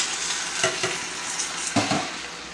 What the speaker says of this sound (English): Put your diced tomatoes in.